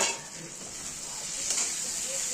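Potatoes frying with spices in a covered pan for an egg and potato curry, giving a steady soft sizzle with faint stirring and utensil scrapes, close and continuous throughout.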